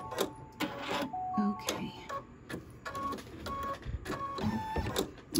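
Embroidery machine stitching the outline of a picture frame on a Halloween quilt block, a busy mechanical whirring and clicking with tonal motor whines, fairly close, with a brief spoken word at one point.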